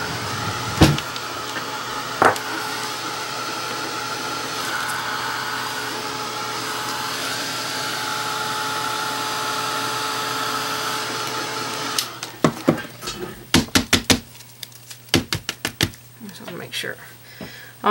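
A heat tool blows steadily to dry a wet rubber stamp for acrylic art journaling, a broad continuous whir for about twelve seconds, then it switches off and a few sharp handling clicks and taps follow.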